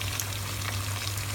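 Tomatoes hit a pan of frying vegetables with onions, peas and potatoes, giving a steady close hiss and crackle with a faint low hum underneath.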